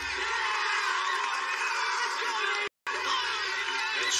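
A crowd of supporters cheering and whooping for an Iowa competitor at an American Ninja Warrior course, a loud continuous roar of voices broken by one brief dropout, with commentary talk over it.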